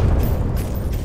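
A Garry's Mod video-game explosion, a dense, loud low boom that fills about a second with roaring rumble and no talk.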